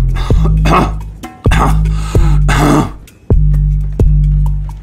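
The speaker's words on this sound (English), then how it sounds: "How long have you had that cough?" A man coughs hard and repeatedly, about five harsh, loud hacking fits in quick succession with rasping throat sounds between them, close and alone.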